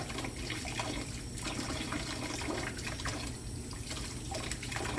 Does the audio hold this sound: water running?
yes